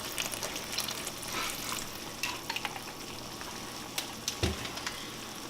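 Tropicana apple juice simmering in a pan gives a soft, steady crackling sizzle with scattered small pops and one stir-like clunk, fairly quiet and close, with no talk.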